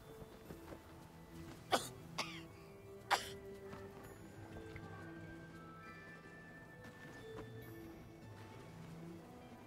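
Several soft coughs and throat-clearing bursts come from a person near the microphone, with three sharper coughs early on over a low, quiet background hum.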